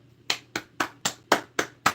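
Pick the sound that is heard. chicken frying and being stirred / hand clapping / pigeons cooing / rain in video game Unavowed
hand clapping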